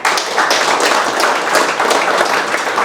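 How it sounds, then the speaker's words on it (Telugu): An audience applauding in a hall or classroom, dense continuous clapping from many hands, loud and close, sustained for the full few seconds. "మీరు కొట్టే చప్పట్లు ఆమెకి వినపడాలి అంటున్నా. Give a big hand."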